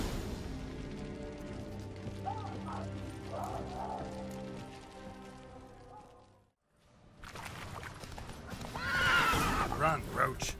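In The Witcher 3 video game, the horse Roach gives a loud, drawn-out neigh with clip-clopping hooves, then a pause, then another strong whinny as galloping resumes, under game music and character speech.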